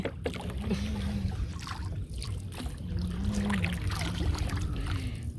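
A wooden rowboat moving through village water, with low creaking strokes and gentle lapping and trickling against the hull, steady and close with no talking.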